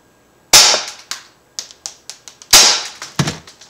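Two sharp, loud shots from an Umarex Elite Force HK USP .177 caliber air pistol, spaced about two seconds apart. Each crack is followed by a run of lighter metallic clicks and taps, close up with no talking.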